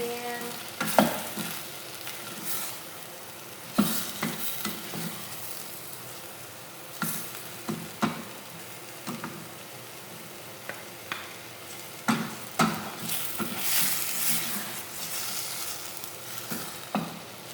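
Chicken majboos (kabsa) sizzles in a pan while being stirred, a soft continuous frying hiss punctuated by repeated scraping knocks of the spoon at irregular intervals, with no talking.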